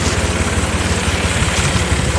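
A Ford tractor engine runs steadily at close range, a dense, even mechanical drone with a faint low pulsing throb and no voices, out on a small farm.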